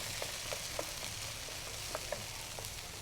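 Cut pineapple stirred with a small spoon in a hot skillet, giving a low continuous sizzle with faint, spaced taps and scrapes of the spoon, no voices.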